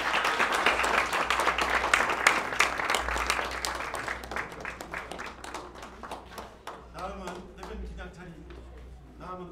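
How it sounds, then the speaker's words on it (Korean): An audience at a Ulsan party leadership economic meeting claps, a burst of dense applause that thins into scattered individual claps over several seconds, fairly faint and distant. "박수 한번 주세요"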